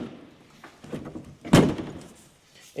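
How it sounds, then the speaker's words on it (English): A classic VW Beetle body shell's car door is shut during restoration, a single solid metallic thunk near the middle after some quieter handling clunks, close by and indoors. "I am going to fully shut this door, ready for the weld on the inside."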